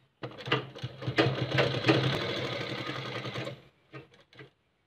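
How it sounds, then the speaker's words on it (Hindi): Kurta fabric is stitched on a sewing machine, which whirs in a rapid, close run of about three seconds, then stops, followed by a couple of brief clicks and short mechanical bursts. "अब आपको इधर सिलाई लगानी है।"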